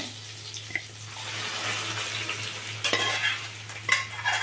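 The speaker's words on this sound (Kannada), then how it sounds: "ಈಗ ಎಣ್ಣೆನಲ್ಲಿ ಇದೆಲ್ಲ ಚೆಂದಾಗಿ ಫ್ರೈ ಆಗಿದೆ" Onions frying in oil for a moong dal dish, a steady broadband sizzle with occasional scraping stirs and clatter, close and moderately loud, no voices.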